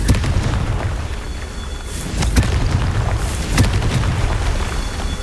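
Spell explosions from the Confringo curse in Hogwarts Legacy, several moderate booming bursts with sharp cracks spaced a second or so apart over a rumbling, busy game background.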